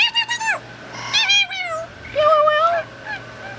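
An African grey parrot imitates a cat's meow in several loud, close calls with falling and wavering pitch, a quick burst of short meows followed by longer drawn-out ones, with little else audible.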